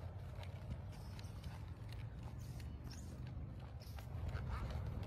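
Rhythmic hoofbeats of a horse loping on soft ground, steady and fairly close, with a low rumbling background.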